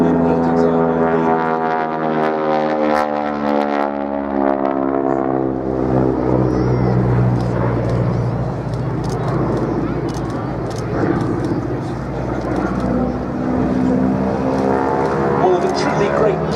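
A classic training aeroplane with a 600 horsepower engine drones steadily at an air festival in Duxford. The deep, harmonic engine tone holds throughout with a gradually shifting pitch as it passes, moderately loud and continuous.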